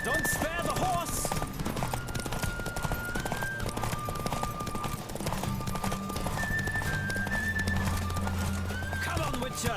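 Horse galloping in a race in The Witcher 3 game, a steady fast clip-clop of hooves with occasional whinnies, loud and continuous under game music and voices.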